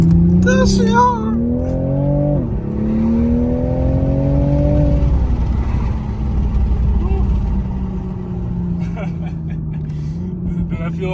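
A Toyota Supra's engine revs up in rising surges and then drops back as the car spins, loud and close, with voices talking over part of it.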